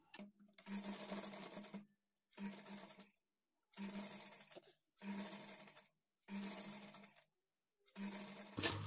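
A sewing machine stitches a lined blouse in six quick, evenly spaced bursts of rapid whirring, close and fairly quiet, with short silences between runs.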